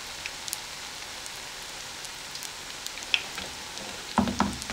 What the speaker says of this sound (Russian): Итак, жарим.